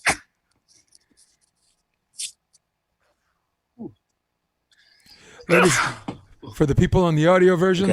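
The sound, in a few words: sneeze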